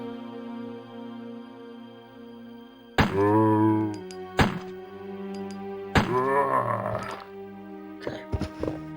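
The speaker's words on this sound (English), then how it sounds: "Equip the knife. Stab that bitch." A knife stabs a zombie in a Resident Evil video game: a few heavy, close thunking strikes, each followed by a ringing tail, with a brief quieter gap between blows.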